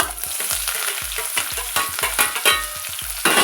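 Onions sizzle in a pan with dried red chillies and cumin for a fresh coconut fry, broken by quick rhythmic stirring strokes, about four per second, close and fairly loud with no talking.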